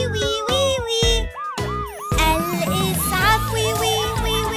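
A voice imitates an ambulance siren with a rising and falling wail, set against a children's song with music and sung voices throughout.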